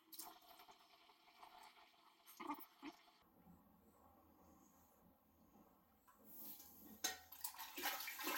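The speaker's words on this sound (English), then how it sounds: "So now we're just going to put some water in the pot just to rinse it out" Water is poured into a beer brewing pot to rinse it, with a soft splashing and sloshing, faint and close, then a louder rush of water toward the end.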